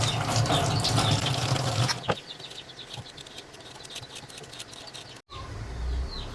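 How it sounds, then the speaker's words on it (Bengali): A melon gets rinsed under a running kitchen tap, with a steady splashing water stream for about two seconds and then quieter dripping and handling sounds close by. "এখন ভালো করে ধুয়ে নিব।"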